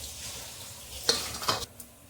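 Cumin, two dry red chilies and curry leaves crackle in hot oil with a soft steady sizzle, broken by a few sharp pops and spitting bursts near the end.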